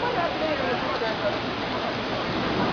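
Heavy rain pours during a thunderstorm in São Paulo, Brazil, a dense, steady hiss that stays constant and loud throughout without any breaks.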